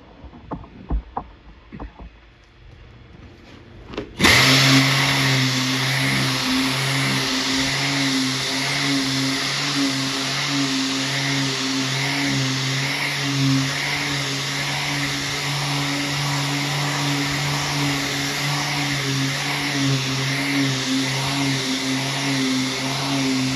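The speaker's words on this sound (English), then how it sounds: "I'm gonna show you real quick how quick this sander will knock this down. I currently have 80 grit on there." A few handling knocks come first, then a power sander with 80 grit paper starts up and grinds steadily on the metal body of a 2011 Chevy Malibu, a loud close whine that runs without pause and with no talk.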